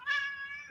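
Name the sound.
cat meowing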